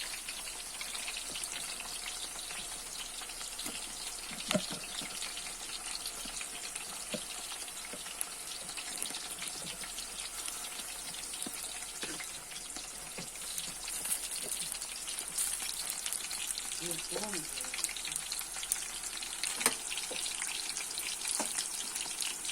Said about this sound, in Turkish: Burada da patlıcanlarımız yağda kavruluyor.